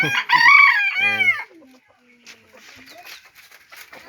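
Chickens at a small backyard poultry farm: a rooster crows loudly and close for over a second, followed by softer scattered clucks and calls from the flock.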